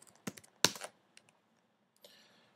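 Fingers tapping out a search on a computer keyboard: a few quick clicks in two clusters, then a short pause and a faint final keystroke, close and quiet.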